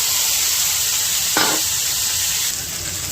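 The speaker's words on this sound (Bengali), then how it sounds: "এবার আমি সব আলু আর উচ্ছে আর কুমড়োটা দিয়ে দিলাম।" Potatoes, bitter gourd and pumpkin tipped into a hot pan of oil with spices and ginger for Bengali sukto, giving a steady close sizzle with a brief sharp burst as the vegetables land.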